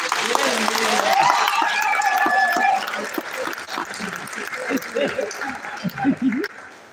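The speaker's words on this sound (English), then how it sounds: "Clap for Zambia for hosting our" A crowd applauds at a Refugee Day gathering in Zambia; loud clapping fills the first half, then thins and fades while a voice and scattered sounds continue underneath.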